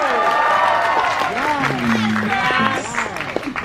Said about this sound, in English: We will clap for you all.